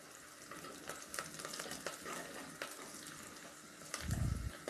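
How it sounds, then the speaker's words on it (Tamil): Garlic and curry leaves sauté in a pan with a soft, steady sizzle, broken by occasional sharp spoon scrapes and a low rumble near the end. "இப்போது இதை நல்லா வதக்கிக்கோங்க."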